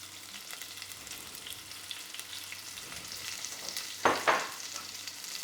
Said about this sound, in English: I'm going to add 100 grams of red onion